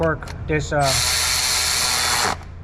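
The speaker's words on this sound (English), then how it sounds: "ratchet doesn't get very tight. Only I think it's like 8 or 10 foot-pounds with the way I have it set" A cordless ratchet spins down head bolts on a Power Wagon 6.4L engine. One loud, close whirring burst lasts about a second and a half, with a short voice heard just before it.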